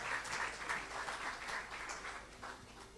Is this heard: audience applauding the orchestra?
yes